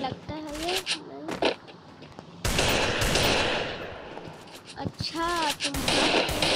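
Rapid automatic gunfire in the Free Fire MAX video game crackles in loud bursts between stretches of someone speaking, with a sustained barrage in the middle.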